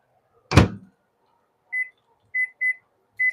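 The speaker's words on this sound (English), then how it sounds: "put it in the microwave and" A microwave oven door shuts with a sharp thunk, followed by four short electronic beeps from the keypad as cooking time is entered, close by in a quiet room.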